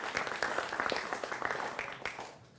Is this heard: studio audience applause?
yes